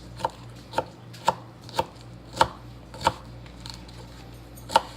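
Food chopped with a sharp knife on a cutting board while preparing a jalapeño popper burger bowl: about eight crisp, evenly spaced thuds, close and clear, with no talk.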